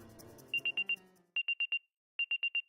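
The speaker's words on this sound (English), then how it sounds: "a beep suddenly echoed through the hallway." Sharp electronic beeps in a hallway from the visual novel game Root Double, sounding in three quick bursts of four pulses each, crisp and loud against near-silence after a brief fading musical passage.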